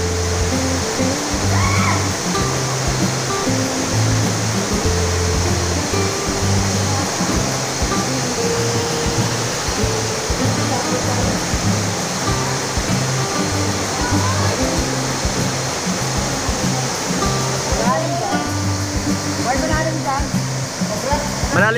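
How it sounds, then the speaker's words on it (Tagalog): Mayang Falls waterfall roaring steadily and loudly up close, a dense continuous rush of falling water with faint voices talking underneath. "Panalo niyo, bagsakan ng tubig yun"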